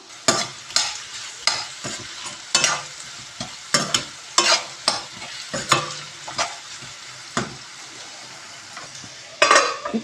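Onions frying and being stirred in a pan for an egg onion curry, a steady close sizzle broken by regular scraping spatula strokes and clinks every second or so.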